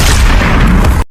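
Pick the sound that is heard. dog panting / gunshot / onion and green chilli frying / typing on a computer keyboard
gunshot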